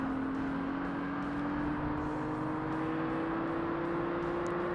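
Racing cars in the game Forza Motorsport, a steady engine drone with a rising whine holding through the whole stretch, the car racing a Peugeot in an amateur European event; no talk.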